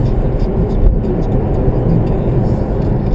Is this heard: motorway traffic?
yes